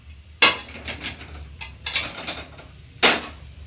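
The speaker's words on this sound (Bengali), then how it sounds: "একটু নেড়ে দিই, বাবা চুঙে যাচ্ছে।" A spatula stirs beetroot and red tomatoes in a cooking pan, giving a few sharp metallic scrapes and clinks at irregular intervals with quieter rustling between them, close up and without speech.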